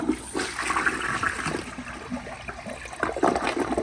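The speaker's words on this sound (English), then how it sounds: "that is a very short flush" A 2012 General De Ceramica toilet flushes in one short, rushing burst of water, close and steady, with no talking over it.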